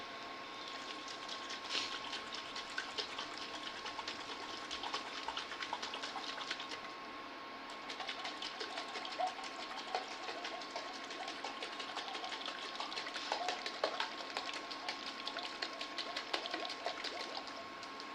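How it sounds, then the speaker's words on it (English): Honey vinaigrette with shallot oil shaken in a jar: a steady, close liquid sloshing and rattling runs continuously with a faint background hum, no talking. "I'm just shaking it until the honey that's on the bottom is dissolved into the solution"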